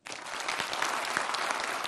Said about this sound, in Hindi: एक बार चंद्रयान थ्री के लॉन्च पर आज तालियां बजा दीजिए